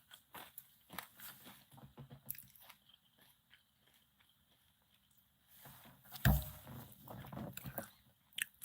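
Someone eats near the microphone, giving soft, irregular biting and chewing crunches, faint at first and then louder with a sharp thump midway, no speech.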